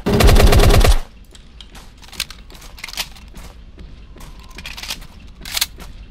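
Automatic weapon fire in the zombie survival video game Remnants: a loud, dense one-second burst of rapid shots, then quieter in-game ambience with scattered light thuds and clicks.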